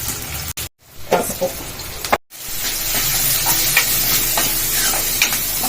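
Carrot, onion, green chilli, ginger, cumin and mustard seeds frying in a pan for egg fried rice give a steady close sizzle with stirring scrapes, interrupted by two brief dropouts near the start.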